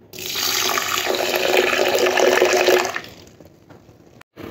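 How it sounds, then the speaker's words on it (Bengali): Water pours steadily into a pot of red and mung lentils for about three seconds, a loud continuous splashing fill that then fades to a quiet trickle, with no talking. "এরপরে জল দিয়ে দেব।"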